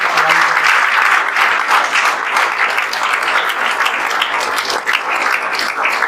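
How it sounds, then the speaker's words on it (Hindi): Students give steady, dense applause for a classmate, loud and close and lasting the whole stretch, with faint voices mixed into the clapping. "आपके दोस्त आपके लिए ताली बजा रहे हैं सब"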